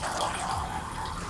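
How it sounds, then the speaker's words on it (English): Water runs steadily out of the tank of an Aquatru countertop filtration system in a soft, continuous pour that stays even and fairly quiet for a brief moment. "Alright, let's try to dispense the water out and see when it actually works."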